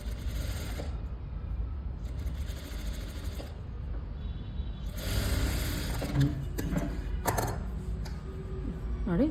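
A sewing machine runs in bursts while stitching a border onto a blouse, its close whirring rhythm starting and stopping several times with ratcheting mechanical ticks and small fabric-handling clicks between runs.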